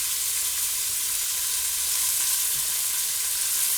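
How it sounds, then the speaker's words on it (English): Carrots, onion and potato sauté in bacon drippings for corn chowder, giving a steady, even sizzle that holds at a constant level throughout with no talking. "We're going to saute our carrots, onion, and potato in the drippings"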